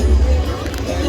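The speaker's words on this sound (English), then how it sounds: "Come on, guys, keep cheering for them." Audience at a SeaWorld killer whale show cheering and chattering as a dense crowd murmur, steady and close throughout, with no single voice standing out.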